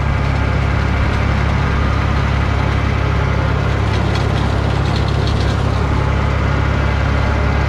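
A tractor pulling a haybine mower at top speed drones steadily and loudly with a constant low rumble and mechanical rattle, running without pause and with no talking.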